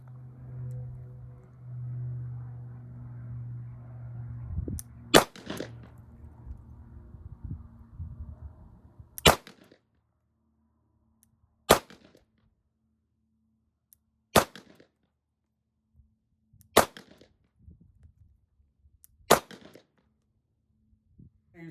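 Colt Agent .38 Special lightweight snub-nose revolver fired at an outdoor range from about seven yards, with about six sharp, loud single shots spaced a few seconds apart after a stretch of low rumbling background noise.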